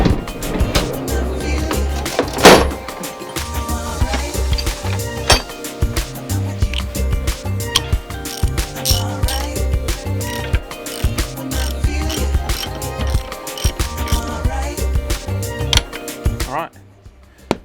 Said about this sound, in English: So hopefully we can crack these bolts loose, and this should just drop straight out.